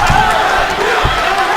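Loud kickboxing arena crowd at a Glory 40 event, a dense roar of cheering and shouting sustained throughout with a few dull thuds underneath.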